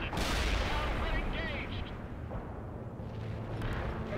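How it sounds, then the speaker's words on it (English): Gunfire in the World in Conflict strategy game, aimed at a repair vehicle: a dense, continuous rumble of shots and blasts that holds steady throughout without any clear gaps. "Stop shooting at my repair vehicle, please."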